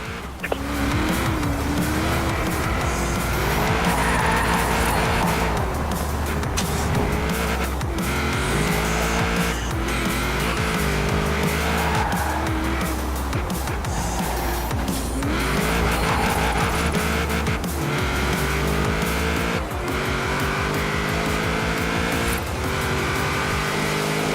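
Forza Horizon 4 car drifting through a race, engine roaring steadily with long, loud tire squeals rising and falling throughout, no talking over it.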